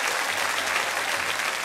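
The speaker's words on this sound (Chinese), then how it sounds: "掌声热烈一点啊" Studio audience of a televised dating show breaks into warm, steady applause, a dense even roar of many hands clapping close and loud with no pauses.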